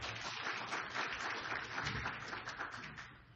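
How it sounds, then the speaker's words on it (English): A conference audience gives a speaker on climate change a warm round of applause, the clapping dense and sustained, then gradually thinning and fading toward the end. "It's great to get the applause first"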